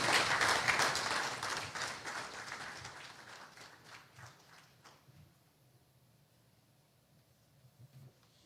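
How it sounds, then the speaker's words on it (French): An audience claps for a singer being introduced on stage, a loud burst of applause at the start that gradually thins and fades into scattered, fading claps and quiet room noise. "On peut l'applaudir."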